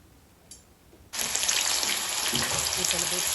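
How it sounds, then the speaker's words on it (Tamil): Banana pieces dropped into hot oil in a pan: a faint click, then a sudden steady, bright sizzle starts and holds at an even level until the end. "இப்பொழுது சட்டியில் எண்ணெயை ஊற்றி எண்ணெய் சூடேறியதும் ஒவ்வொரு துண்டுகளாக போட்டு பொரியும்."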